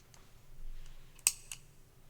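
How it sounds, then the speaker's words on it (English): A footswitch on a Catalinbread Naga Viper clone guitar pedal gives one sharp, fairly close click, followed by a second, softer click, with faint hum in a quiet room. "This requires less force for you to click it"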